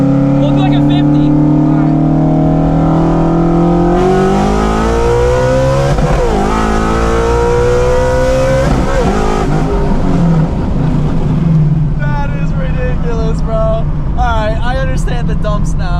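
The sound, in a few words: 800HP Shelby GT350 car accelerating, boosted on E85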